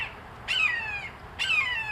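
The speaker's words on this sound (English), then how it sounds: "constant call is definitely a sign of a red-shouldered hawk" A juvenile red-shouldered hawk calls twice in winter, each a clear, loud, high descending scream about a second apart, over a quiet background.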